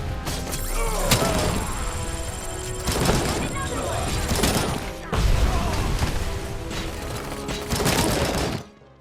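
AK rifle fired in RoboCop: Rogue City, several loud bursts of automatic gunfire with clattering impacts and mechanical clanks over continuous game noise.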